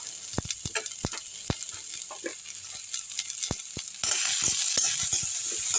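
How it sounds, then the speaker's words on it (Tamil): Garlic and a handful of onions sautéing in a pan for a Tamil thuthuvalai keerai chicken chops recipe, with a steady sizzle, occasional sharp clicks from stirring, and louder, denser frying toward the end. "நல்லா வதக்கிடலாம் ரெண்டு நிமிஷம் வதங்கட்டும் லேசாக வதங்கினா போதுங்க ஒரு கைப்பிடி அளவு வெங்காயம் போட்டுப்போம்"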